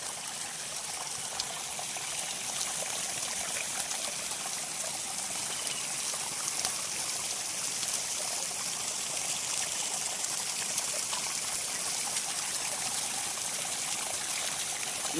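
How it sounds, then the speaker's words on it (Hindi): A mountain stream flows along a walking path. The water makes a steady, broadband rushing and trickling sound that stays even and fairly close throughout, with no voices over it. "यहाँ पर पानी की आवाज सुनाई दे रही होगी, जरा गौर से पानी की आवाज सुनिए।"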